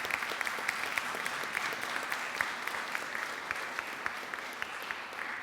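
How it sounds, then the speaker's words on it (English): Steady applause from a conference audience at a summit, dense and sustained clapping throughout at moderate distance, with no talking over it. "So how about a big round of applause for Roman again?"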